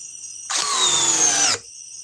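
A DeWalt power drill whirs loudly for about a second, with a falling pitch as it winds down, then cuts out, leaving only a faint steady background hum.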